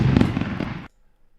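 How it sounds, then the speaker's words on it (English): Fireworks effect played during a live stock-trading stream: a dense crackling burst with popping bangs for under a second, then cutting off abruptly to silence. "Fireworks are always ready."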